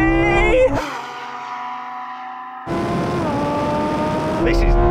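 A Lamborghini Huracan Sterrato launches in a drag race against a Porsche 911 Dakar, its engine roaring loud and close, pitch climbing through each gear with clear shift breaks before surging on at full throttle.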